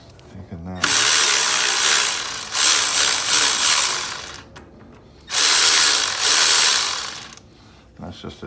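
A ratchet or power tool works loose a small 10 mm bracket bolt on a Toyota Prius engine during head gasket repair, giving two long, loud bursts of buzzing mechanical clatter separated by a short pause.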